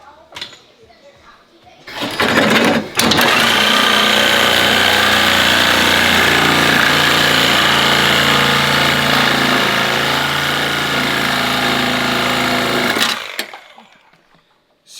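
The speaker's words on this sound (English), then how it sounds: "Get the Sawzall blade." A cordless 14.4-volt Sawzall reciprocating saw cuts through rusted control arms on an R32, a loud steady buzzing drone that starts abruptly, runs for about ten seconds and cuts off.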